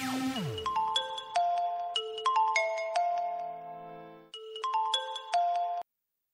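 A mobile phone ringtone plays a repeating bright chiming melody, loud and close, over several bars. It stops abruptly after about six seconds while the call goes unanswered.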